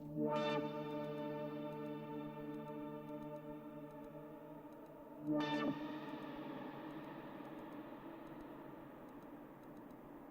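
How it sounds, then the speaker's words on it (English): Two bright synthesizer hits from a Eurorack modular synth ring out several seconds apart, each trailing a long, washy reverb tail that slowly decays. "That's some big reverb."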